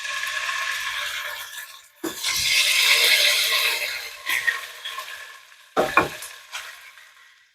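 Long strips of steak sizzle and fry in olive oil in a pan, with a loud hiss that swells as the meat goes in and is stirred, broken by a few sharp scraping clatters and pauses.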